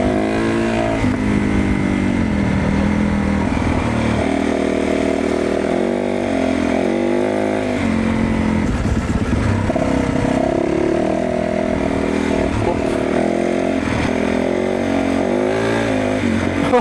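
Rare Dakar rally motorcycle engine running steadily and loudly throughout, with a continuous rumbling tone and small shifts in pitch as the throttle varies, heard alone without talk.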